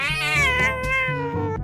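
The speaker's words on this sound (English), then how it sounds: "That's another cat, and he's standing suspiciously close to your territory." A nearby cat lets out one long, drawn-out meow that wavers in pitch, loud and close with nothing else around it.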